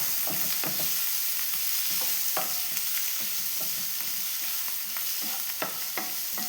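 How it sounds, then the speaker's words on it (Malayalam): Tomato, green chilli, ginger and garlic sauté in a hot pan for a masala curry, a steady sizzle broken by several sharp spoon scrapes and stirs, close and alone with no voices. "തക്കാളി പച്ചമുളക് ഇഞ്ചി വെളുത്തുള്ളി ഇവരെല്ലാം ഇട്ട് കൊടുക്കുന്നുണ്ട് നല്ലോണം വരക്കി വെക്കാം"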